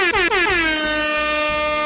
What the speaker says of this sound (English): give me the air horns right here